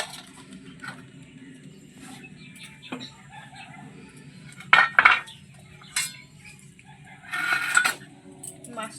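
Potatoes and green bananas being cut for a fish curry of live local tengra fish, with scattered knife and utensil clatters, a couple of sharper knocks near the middle and a brief clattering burst near the end, over low background noise and faint birds.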